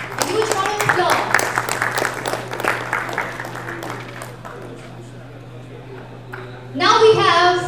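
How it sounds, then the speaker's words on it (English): Audience applause at a blockchain summit in Gujarat, a steady patter of clapping across the hall that fades away, then a presenter's voice comes in near the end. "A huge round of applause."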